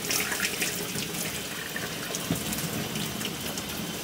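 Hot water runs steadily from a tap into a sink while pinball machine legs are being cleaned of rust, a continuous close hiss and splash with no talking.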